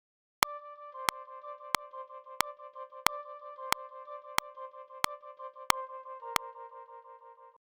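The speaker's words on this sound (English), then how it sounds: "I am using a flute patch from the Presence plugin, and I have added a 16th note ping-pong delay to it" A flute patch from the Presence plugin, fed through a 16th-note ping-pong delay, plays a soft melody of clicky-attacked notes at a steady pulse, each trailed by repeating echoes, faint and alone.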